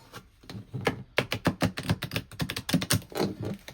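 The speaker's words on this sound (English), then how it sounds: "Shuffle the first pile from this deck." Rapid, crisp riffling clicks of cards being shuffled, a fast run of sharp taps close up with a brief pause near the start.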